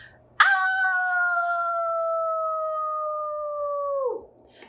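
A human voice imitates a dog's howl, one long sustained loud wail that rises sharply, holds steady for about four seconds, then drops away.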